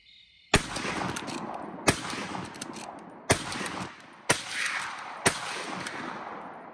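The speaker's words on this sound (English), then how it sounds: "here's the test fire that I did with it" A stripped Lee-Enfield SMLE No1 MkIII rifle test-fired outdoors: five loud, sharp shots about a second apart, each followed by a ringing, echoing tail.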